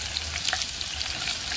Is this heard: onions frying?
yes